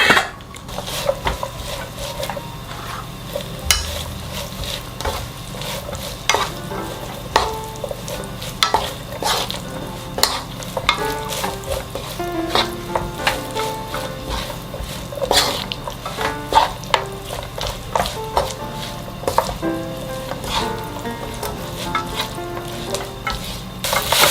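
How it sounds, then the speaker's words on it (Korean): Dried shredded squid being stirred into a bubbling seasoning sauce in a pan, with steady sizzling and frequent close clacks and scrapes of the spoon running throughout, no voices. "물기를 제거한 진미채를 모두 다 넣고 잘 섞어주세요."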